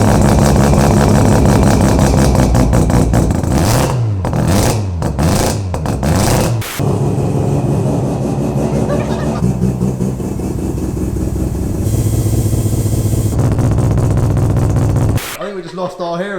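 Mazda RX7 rotary engine with a bridgeport, idling loudly and lumpy up close with choppy, uneven pulses and occasional blips, while people talk over it.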